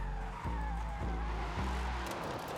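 In the video game Forza Horizon 5, a 1000-horsepower BMW M3 drifts, tires squealing and skidding continuously over a steady engine drone, with a few rhythmic shifts in pitch, loud and close, no voices.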